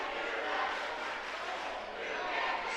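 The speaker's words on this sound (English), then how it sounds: "And the Parke Heritage students return the "you can't do that" cheer" Parke Heritage high school students chant a rhythmic cheer in a packed gym during a 2023 Banks of the Wabash basketball tournament game. The chant is a steady, dense crowd roar that stays loud throughout.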